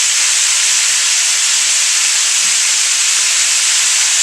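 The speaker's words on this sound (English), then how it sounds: "You see that's frying right up." Steady, loud sizzling hiss of meat frying in a hot skillet with onion, for chili, continuous and unbroken with no voices.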